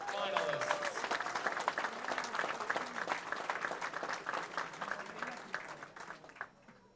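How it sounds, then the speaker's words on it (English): Sustained applause fills a high school bowling championship venue as the girls' singles finalists are recognized, dense clapping from a large crowd with faint voices mixed in, holding steady for several seconds before tapering at the end. "Let's get one more round of applause for all of our girls finalists."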